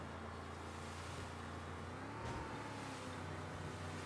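A 1930s-era car racing along at high speed in Mafia: Definitive Edition, a steady, loud engine drone with a brief surge of passing noise midway, with no talking.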